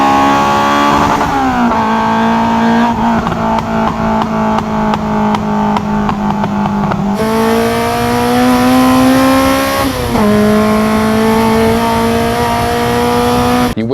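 A tuned Honda Civic Type R EP3 with a Solid Fab exhaust revs loudly and close by, its rasping tone climbing through the gears with short breaks at each shift.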